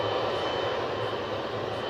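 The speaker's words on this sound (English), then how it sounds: "I think there's a Ryanair coming up the track as well." A Ryanair jet at Newcastle airport gives off a steady, broad engine roar that holds at an even level, heard from a moderate distance with no voices.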